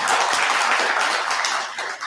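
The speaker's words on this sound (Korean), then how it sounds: "크게 앞으로 장래 잘 되라고 박수 한번 칠까요?" Quick burst of audience clapping at a Buddhist Sunday family service in a temple hall. Many hands beat steadily for about two seconds with no voices.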